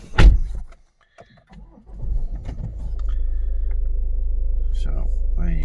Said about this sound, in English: just getting the car and started up for you.